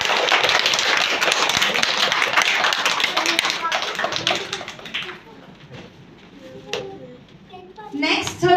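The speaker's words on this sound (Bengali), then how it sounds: "একটু জোরে হাততালি হয়ে যাক" A group at a children's drawing competition applauds a winner, dense clapping that fills the first half and then thins out, followed by scattered taps and children's voices.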